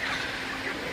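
Broiler chickens on a farm, 31 days old, cluck and murmur together in the morning as they drink water, a steady close flock noise filling the short stretch with no talk.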